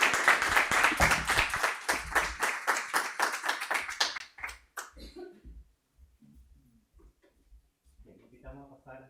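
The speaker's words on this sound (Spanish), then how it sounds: "Le damos entonces un aplauso a Solange." Audience applause at an international symposium on Greek studies, a burst of clapping for about four seconds that fades out, followed by scattered quiet taps and faint talk.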